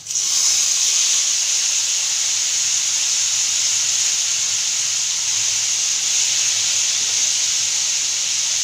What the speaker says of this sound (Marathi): हे बघा आता आपले मसाले परतलेले आपण त्यामध्ये हे टोमाटे टाकू